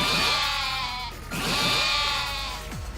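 Sheep bleats from the video game Yakuza: Like A Dragon, two long wavering calls in a row, loud and close, with a brief gap between them and no talk.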